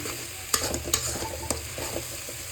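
Dried fish stirred and sautéed with salt in a pan, a steady sizzle under several sharp scraping stirs of the spoon, close and moderately loud with no talking.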